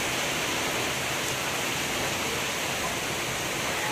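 Heavy rain pours onto an open rooftop, a dense, steady hiss that stays even and close throughout with no voices.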